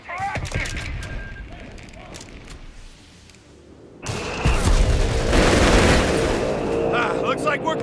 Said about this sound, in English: Get those mortars ready for action.